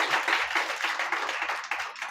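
An audience claps for a founder and CEO at a crest-giving ceremony in Bangladesh, a steady dense patter of many hands that holds at an even level for about two seconds.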